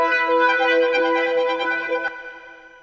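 Dry, unprocessed sample texture: a sustained, harmonically rich tonal drone with a few soft swells that stops abruptly near the end, leaving only a faint tail, heard alone without any voice.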